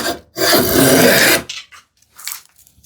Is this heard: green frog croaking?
no